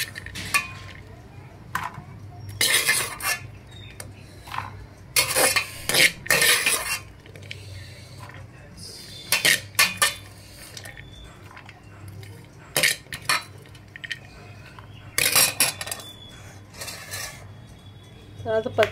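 Half a kilo of chopped onions tipped into a pan and stirred with a metal utensil, giving repeated loud scraping and clinking bursts over a low steady hum, with no talking.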